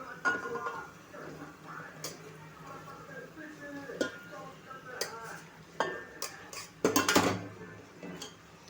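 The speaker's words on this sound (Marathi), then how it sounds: "आता आपण ह्याच्यामध्ये पास्ता टाकूया जो आपण उकडून ठेवलेला आहे." Boiled pasta tipped into a pan of fried vegetables, then stirred: scattered clinks and scrapes of a metal utensil against the pan, a sharper clatter near the end, close up and moderately quiet.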